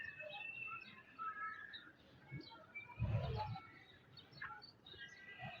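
A pigeon coos softly and briefly in a quiet indoor space, a low murmur that rises for a moment near the middle of the stretch, with faint chirps and background noise around it.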